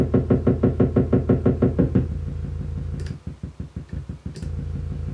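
Orgone Accumulator MK2 synthesizer in drum mode gives a fast run of punchy, knocking electronic hits that then shift into a rapid, rattling burst of thinner percussive ticks, steady and loud with no talking.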